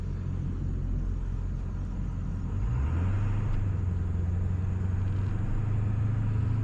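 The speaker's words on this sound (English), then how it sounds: "your initial stepping on the throttle, is way more aggressive than it ever was with a stock Powerstroke" A 450hp Powerstroke diesel in a Ford OBS truck rumbles at idle, then accelerates hard with a deep rising engine drone that holds loud and steady inside the cab.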